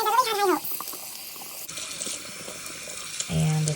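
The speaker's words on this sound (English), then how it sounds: "let's go ahead and rinse the color out of this one." Water runs and splashes while rinsing hair color out of a hair extension, a steady flowing gush close by with brief handling noises and a tap starting near the end.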